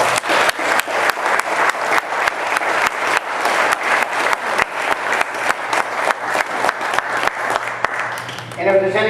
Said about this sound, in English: Let's give the veterans an out front of applause.